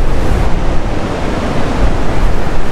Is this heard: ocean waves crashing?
yes